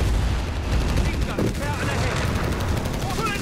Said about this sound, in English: Pop's MGs are really good